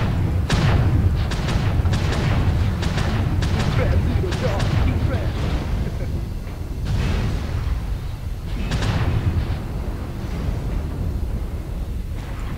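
Weapon fire pounding a player's mech in the combat game MechWarrior Online: a steady roar of heavy booming impacts and explosions in rapid clusters, with a voice talking over the barrage.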